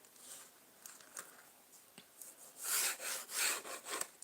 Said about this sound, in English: I'm just going to be drawing a straight line down this way.